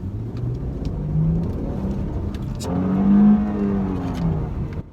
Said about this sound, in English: So got it in sport mode, not necessarily because it needs it. The engine does have a nice sound.